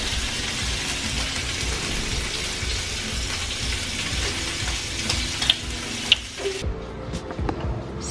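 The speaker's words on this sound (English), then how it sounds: "So now I'm cooking the eggs" Eggs fry in a pan with a dense, even crackling sizzle like light rain, which thins out near the end into a few louder pops and clatters.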